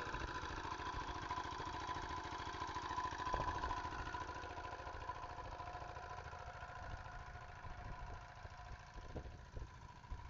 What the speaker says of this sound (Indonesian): Jadi untuk tenaga diesel ini ya cukup lumayan handal lah, diesel jiangfa ini.